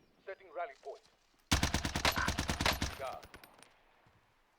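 A C58 assault rifle in the video game Warzone fires one long rapid automatic burst of roughly fifteen loud, close shots. A short stretch of talk comes just before it.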